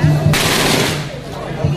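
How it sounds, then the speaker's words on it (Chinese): A string of large firecrackers goes off at a village festival procession in Taishan in a rapid, loud, continuous crackle of bursts, with people shouting over it. "又嚟串大炮仗啊！"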